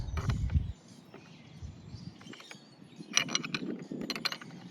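A wrench clicks and scrapes while turning a bolt on the power steering pump of a 2007 Cadillac DTS, with irregular metallic ticks and rattles, close and fairly quiet.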